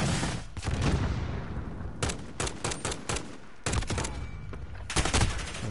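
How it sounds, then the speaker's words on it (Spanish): Gunfire and an RPG rocket launcher blast through a Call of Duty Modern Warfare firefight, with dense bursts of rapid shots, heavy booms and rumbling clusters of fire, loud and close, recurring in waves. "Nos disparan aquí con el RPG y nos mata el otro."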